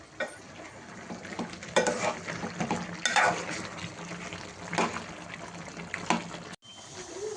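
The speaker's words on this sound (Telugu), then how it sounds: "ఆఫ్టర్ 10 మినిట్స్ తర్వాత మళ్ళీ ఒకసారి కలుపుకొని" Chicken curry is stirred in a pan on the stove, a steady wet scraping and sloshing over continuous sizzling, close and moderately loud throughout.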